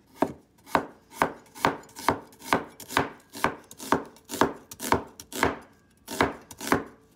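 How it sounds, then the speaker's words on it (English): Steady knife chopping an onion on a board, about fifteen crisp even strokes in a regular rhythm, close up, with no talking. "so I'm going to cut the onion"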